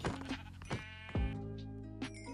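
Minecraft sheep bleat in a few quick, close calls as an iron axe is used on them, with a dull hit sound in the middle.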